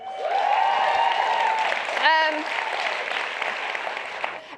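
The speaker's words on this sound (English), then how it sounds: "We have a round of applause." Applause from an audience at a science-field event, a broad clapping wash under and around a tonal sweeping sound and a brief voice, continuing to the end.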